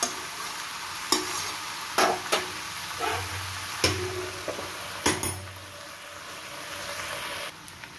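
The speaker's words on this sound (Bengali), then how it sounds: "এঁচোড়টা দিয়েও আমি 2 থেকে 3 মিনিট এটাকে কষিয়ে নেব চাপা দিয়ে।" Young jackfruit and potato being stir-fried with spices in a covered pan: a constant soft sizzle broken by sharp clanks and scrapes of a spatula against the metal, close and moderately loud.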